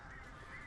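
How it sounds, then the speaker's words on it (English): A flock of birds in the Alan Wake video game lets out a dense, continuous honking chatter, like a mass of geese or fowl calling together. It holds steady and fairly loud for under a second, with no talking. "so we have these flocks of birds"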